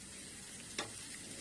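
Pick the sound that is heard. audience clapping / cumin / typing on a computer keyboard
cumin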